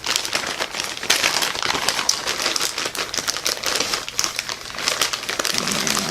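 Plastic packaging bag around a cheap wig crinkling and crumpling continuously as it is handled up close, a dense, papery rustle throughout.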